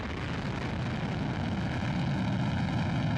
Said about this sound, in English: Getting a great view of those first stage engines as they light up the night sky.